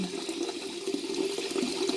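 A toilet tank refilling with water after a flush: a steady, fairly close rush and hiss of running water that holds constant throughout, with no voices.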